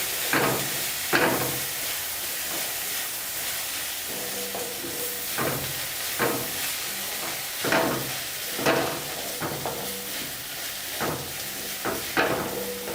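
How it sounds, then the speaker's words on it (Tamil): Ginger paste is sautéed with egg in a pan for egg podimas, giving a steady sizzling hiss with periodic scraping stirs of a spatula against the pan, close and moderately loud, with no talk. "ஸோ இஞ்சி பேஸ்ட் ஆட் பண்ணிவிட்டு நல்லா வதக்குறோம்."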